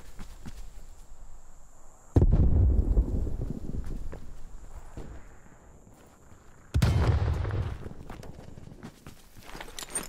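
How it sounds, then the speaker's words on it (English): A grenade going off in the Call of Duty: Black Ops Cold War Alpha multiplayer mode, with two heavy, booming blasts a few seconds apart, each decaying into a rumbling tail over faint background noise. "Throwing grenade"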